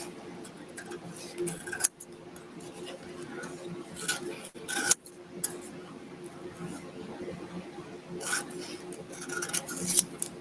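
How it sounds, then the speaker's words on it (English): Scissors cutting along solid lines on paper for a classroom foldable, irregular close rasping snips and rustles, with someone talking throughout. "we're going to begin by cutting on the solid lines"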